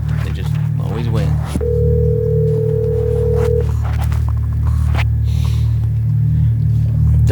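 A telephone call rings out as a steady electronic tone under low rumbling hum, with a person talking around it.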